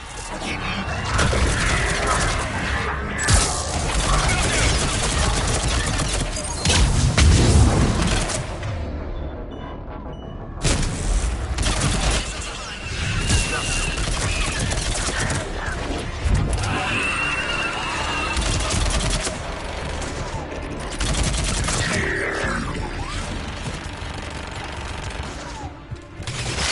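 Heavy gunfire rattles through a Mass Effect battle, loud and nearly continuous across the whole stretch, rapid bursts mixed with deep booms and engine-like roar, briefly dropping away before resuming.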